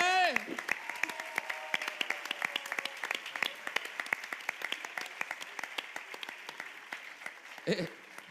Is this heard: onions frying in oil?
no